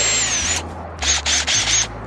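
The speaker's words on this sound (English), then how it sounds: "I'm going to use this little step-up bit, kind of drill some pilot holes" A power drill fitted with a step bit bores pilot holes in van sheet metal: a long high whine, a short pause, then several quick bursts of drilling, close and loud.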